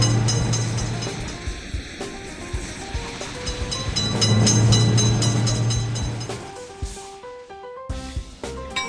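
A train passes a railroad crossing in a video game set on an Indian railway, a steady rumbling roll with clattering and a tonal hum, fading near the end to a few electronic beeps.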